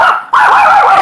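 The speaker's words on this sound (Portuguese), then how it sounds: "Esqueci de prender o cachorrinho." A small dog barks in sharp, high yips, loud and close, with a brief pause before a continuous burst of barking.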